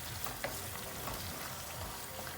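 A spiced mixture being sautéed in a pan, a faint, even crackle of frying with soft stirring scrapes and no talk.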